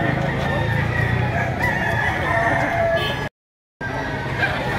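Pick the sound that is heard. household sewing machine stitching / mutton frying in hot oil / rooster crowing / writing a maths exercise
rooster crowing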